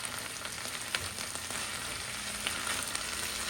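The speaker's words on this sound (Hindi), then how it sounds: "फिर हम हीट कर लेंगे हाई पे, और हमने हाई पे अपनी वेजिटेबल्स को पकाना है।" Mixed vegetables for spring rolls sautéing in a pan over high heat, a steady close sizzle with occasional stirring clicks, no voices.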